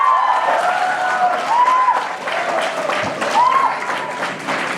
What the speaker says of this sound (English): you should continue to clap